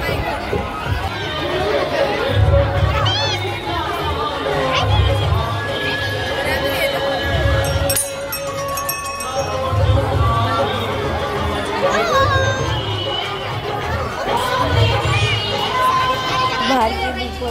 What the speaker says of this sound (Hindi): ज़्यादा भीड़ हो रही है अभी, बस दोपहर का टाइम है उसमें भी इतनी ज़्यादा।